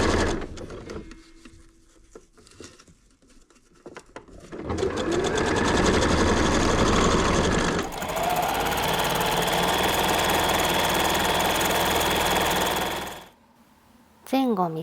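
A sewing machine stitches along the zipper edge of a dress, starting with quieter handling and short bursts, then running steadily loud and close for several seconds before stopping abruptly.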